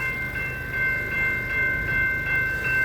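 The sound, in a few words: train passing on railway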